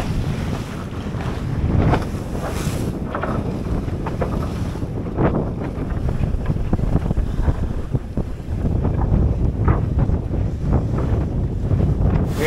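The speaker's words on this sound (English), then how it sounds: "Like champagne sailing, at least with, you know, 10 knots of wind and fairly calm seas." A catamaran sailing upwind in 10 knots of wind over fairly calm seas: loud, gusty wind buffets the microphone while water rushes and splashes against the hulls in uneven surges, with no voices.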